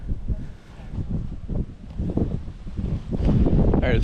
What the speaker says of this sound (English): All right, it's pretty windy up here.